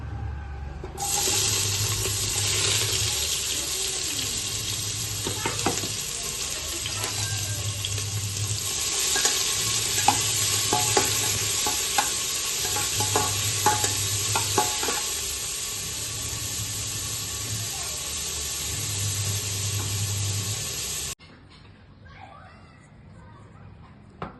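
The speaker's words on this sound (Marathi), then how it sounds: "तेल तापले, आता घालूयात आपण कांदा." Chopped onion hits hot oil in a pressure cooker and sizzles in a loud, steady, close hiss for about twenty seconds before cutting off abruptly, leaving a quiet background.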